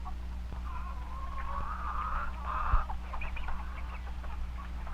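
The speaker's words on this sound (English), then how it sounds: "This is a hen." A hen on a farm gives a drawn-out clucking call, moderately near, over a steady low hum, with a brief thump partway through and softer clucks afterward.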